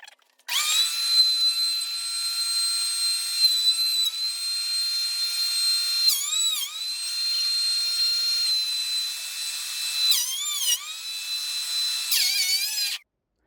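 Wood is planed in a cluttered workshop: a high, thin, whistling machine whine runs almost steadily for about twelve seconds, dipping briefly in pitch a few times as the cut loads, with no talking.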